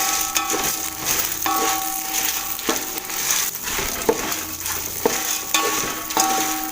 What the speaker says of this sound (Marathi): हे मिरची आणि डाळ स्लो गॅसवरती भाजून घ्यायची